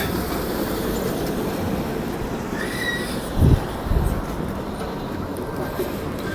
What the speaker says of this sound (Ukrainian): Це львівський трамвайчик.